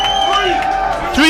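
Crowd at an arm wrestling main event cheers and whoops loudly and continuously, with clapping and a rising roar at the finish.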